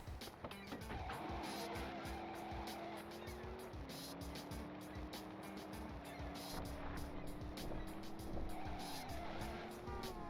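Car in the video game Driver 2 on a driving mission, steady engine drone with pitch shifts between gears and continuous tire squeal as it corners at speed, loud and unbroken throughout.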